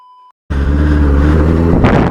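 A Benelli 600i superbike engine roars loudly after a short tone and a moment of silence, holding a steady deep rumble with a brief rise in revs near the end, alone with some wind noise.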